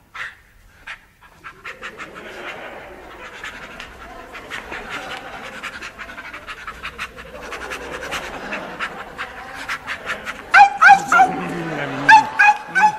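A man imitates a dog, panting and huffing quietly at first, then breaking into a run of sharp yips and barks near the end, all close and unaccompanied.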